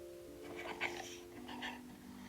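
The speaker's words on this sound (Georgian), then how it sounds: "მეორე ძაღლი მყავს, შეხედე?" A Minecraft dog pants softly in quick short bursts over a faint, steady game music drone.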